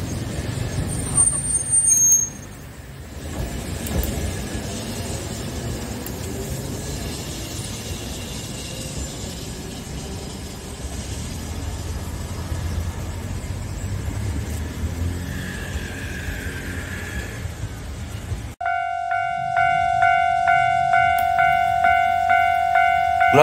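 A Kagoshima city tram rolls past a level crossing, its steady rumble and rattle running for most of the stretch before the crossing bell starts ringing in a loud, repeating pattern.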